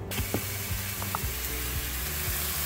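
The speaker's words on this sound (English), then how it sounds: "Let's go ahead and get our burgers into the skillet." Thick beef burgers hit a preheated skillet with a steady, close crackling sizzle, a few faint clicks and taps over the continuous frying hiss, no voices.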